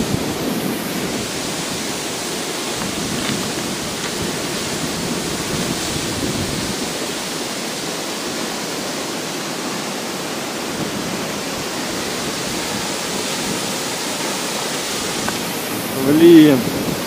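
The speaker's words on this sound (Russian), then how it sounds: "вода идет, вода течет." Rushing, flowing water at a scenic spot in Abkhazia, a steady broadband roar like a waterfall or fast stream that fills the whole stretch, close and constant, with a brief voice near the end.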